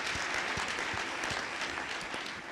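A graduation ceremony audience gives a big round of applause. The dense, sustained clapping from a large crowd keeps an even loudness throughout.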